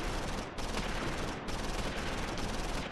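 Sustained gunfire in the video game Close Combat IV: a dense, continuous fusillade of overlapping shots with brief dips, loud and unbroken throughout.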